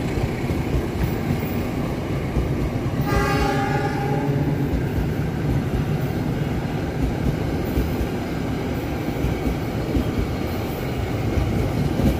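The Malabar passenger train in Indonesia rumbles steadily past at close range, a continuous loud roar of wheels and cars with no voices.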